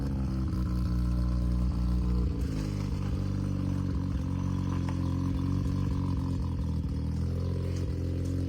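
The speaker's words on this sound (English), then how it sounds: "It sounds good idling there, like it's got a good tone to it." A Mazda RX-7 idles with a newly fitted exhaust, giving a steady, deep, burbling rumble with a lumpy pulsing rhythm, close and continuous throughout with no talking.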